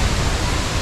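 Steady broadband roar of La Fortuna waterfall in Costa Rica, a continuous rushing wash of falling water heard close and loud without pause.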